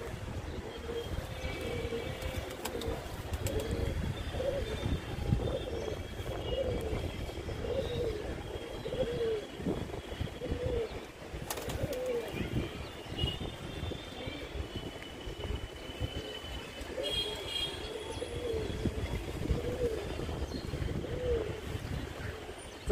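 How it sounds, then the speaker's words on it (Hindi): A group of pigeons coos steadily in low, rounded murmurs while others fly overhead, with a faint continuous background rumble throughout. "ऊपर हमारे 5 कबूतर चल रहे हैं एक साथ में यहाँ पे"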